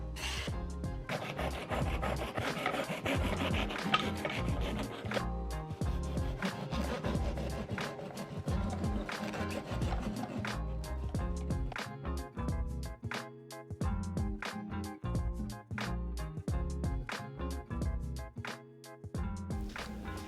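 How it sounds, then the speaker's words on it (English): A loaf of homemade white bread is cut in a bread slicer guide, a long steady run of soft rasping, sawing strokes with a sawing rhythm, close by and continuous for about twenty seconds without speech. "I'm using this bread slicer that my husband bought for me on Amazon"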